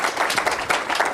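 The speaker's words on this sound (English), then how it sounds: "Maybe we can just give them an applause now" A short burst of clapping from a crowd, dense and even for about a second with no voices.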